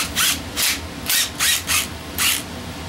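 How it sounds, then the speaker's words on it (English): A thread chaser works over engine bolts on a 350 Chevy, giving six short, close rasping strokes in an uneven rhythm with brief pauses between them. "I'm going to chase the threads on these bolts"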